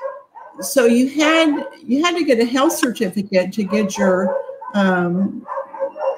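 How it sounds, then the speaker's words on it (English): A dog barks excitedly at stray dogs roaming a residential neighborhood, its barks partly buried under a person talking steadily nearby. "my neighbor's dog is freaking out because there's a stray dog in the neighborhood"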